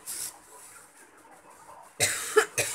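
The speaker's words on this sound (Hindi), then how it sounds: "मुझे बहुत खांसी हो गई है" A woman coughs in a short burst of two or three harsh, close coughs after a quiet stretch of faint room noise.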